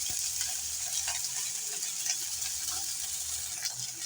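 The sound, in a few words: beef steak frying in hot oil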